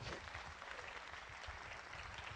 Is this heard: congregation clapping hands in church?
yes